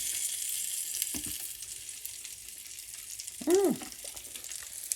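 Bacon frying in a pan gives a steady, close sizzle with faint background kitchen clatter and a brief squeaky sound partway through.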